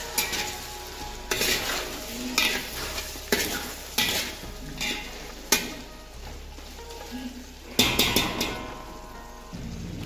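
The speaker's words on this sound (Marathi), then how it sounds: "त्याला छान परतवून घ्यायचं आहे." Vegetables for masale bhat are stirred and sautéed in a pan, with bursts of scraping and stirring over a steady sizzle, close and moderately loud, returning in uneven strokes every second or so.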